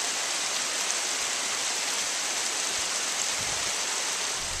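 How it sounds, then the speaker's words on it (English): Snow melt water runs down the side of a cliff beside a roadway in Zion National Park in spring, a constant, even rushing hiss of falling water with no breaks. "here's a snow melt running right down the side of the cliff."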